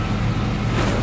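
A 1988–95 GM fullsize pickup truck pulls away with a low, steady engine rumble during a brief moment of driving.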